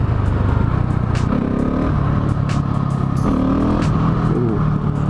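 Single-cylinder engine of a 2018 Husqvarna 701 Supermoto motorcycle chugging at low revs while being lugged, a loud, close, throaty rumble with uneven rising pulls and wind buffeting, no voices.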